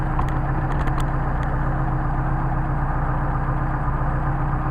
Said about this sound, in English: So let's idle these things down, see what we can get.